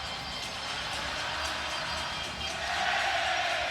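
A basketball arena crowd during the finals fills the space with a steady, loud wash of noise that swells slightly near the end as a player leaves the court.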